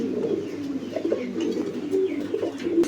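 Soft, low cooing of pigeons, repeated murmuring calls close by with no talking.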